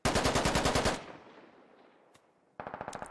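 Automatic gunfire striking an MRAP turret in the military shooter Squad, heard as a loud rapid burst of shots, then a fading echo, then another quick burst, with no talking.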